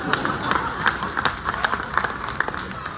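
An audience claps at a kavi sammelan poetry recital in Faridabad, steady mid-distance applause with irregular sharp hand slaps throughout, moderately loud with faint voices underneath.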